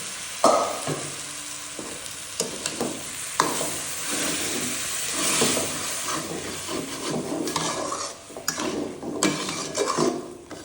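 Mung dal stir-fried in a pan with some leftover broth, a soft sizzle under repeated scraping and clinking of a spatula against the metal, close up and irregular.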